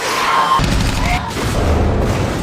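Gunfire in a zombie-virus film scene where a strangely advancing man is shot, heard as several sharp booming reports, loud and close, with dialogue and score mixed underneath.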